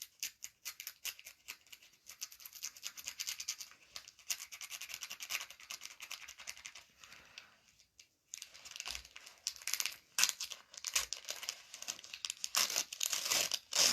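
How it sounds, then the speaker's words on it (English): Paper backing is teased up and peeled off fabric for needle-turn appliqué, a close, quiet run of crinkling, scratchy tearing that rises and falls in bursts, with a brief lull partway through before sharper crackles resume. "When you're teasing the paper up, you want to make sure you're getting just the paper"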